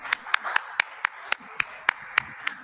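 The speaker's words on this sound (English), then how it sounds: "You can hear probably the applause from from Armenia." A sparse audience claps slowly at a conference session, with about ten distinct claps spaced roughly a quarter second apart, thin and somewhat distant, as though coming through a remote connection.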